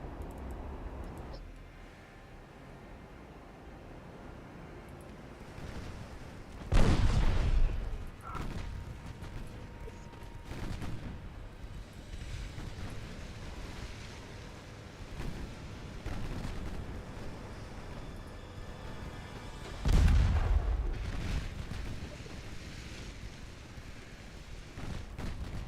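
Naval 2-inch guns firing during a sea battle in Ultimate Admiral Dreadnoughts: a low rumbling bed with two heavy booms near 7 and 20 seconds and scattered lighter thuds between them.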